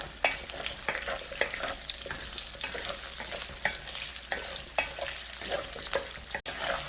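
Vegetables stir-frying in sesame oil for a zucchini gochujang stew, with a steady close sizzle and repeated scraping strokes of a utensil against the pan, no voices over it.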